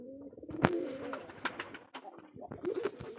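Pigeons on a pigeon farm coo in low, repeated throaty calls, with a few sharper wing flaps or knocks and faint chirps mixed in, close by and steady.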